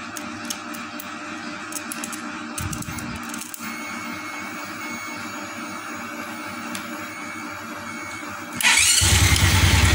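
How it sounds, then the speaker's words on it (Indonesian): A Honda fuel-injected motorcycle (Blade FI, Supra 125 FI or Revo) with a fault that makes it stall often and drain its battery daily gives a steady mechanical hum, then near the end its engine starts abruptly into a loud, rough, close idle. "Coba kita nyalakan lagi."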